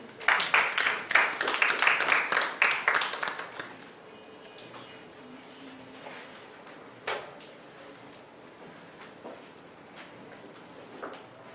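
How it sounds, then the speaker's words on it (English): An audience at a business growth seminar claps after a presentation, a loud burst of many hands for about four seconds that quickly thins into a few scattered claps and soft room noise. "A round of applause once again for Mr. Shea"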